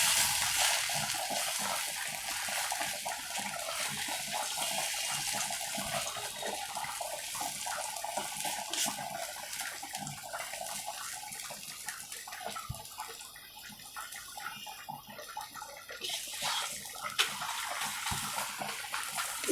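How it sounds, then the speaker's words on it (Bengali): Soybean mince frying in a little oil gives a steady, fairly quiet hiss of sizzling that continues evenly throughout, with small crackles and no talk. "দিয়ে একটু লাল লাল করে এগুলোকে ভেজে দেবো।"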